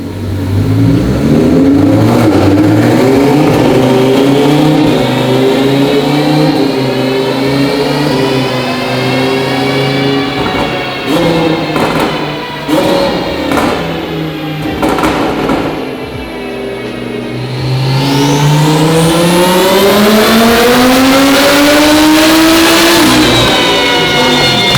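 A turbocharged car pulls hard on a 10-pound boost run, its engine loud and close, revving up in a long climbing sweep, easing off midway with brief pops, then climbing again strongly to the end.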